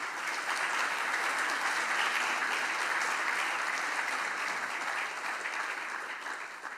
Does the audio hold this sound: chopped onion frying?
no